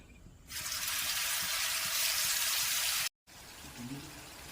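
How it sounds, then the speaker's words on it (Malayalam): Prawns hit hot coconut oil in a pan and erupt into a loud, steady sizzle that hisses on for a few seconds, breaks off briefly, then resumes more quietly. "പാൻ വെച്ച് കുറച്ച് വെളിച്ചെണ്ണ ഒഴിച്ചിട്ടുണ്ട്. കൊഞ്ച് ഇട്ട് കൊടുക്കാം."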